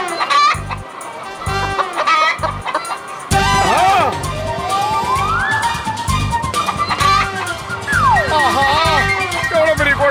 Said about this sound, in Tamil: எவ்வளவு பெரிய கோழி!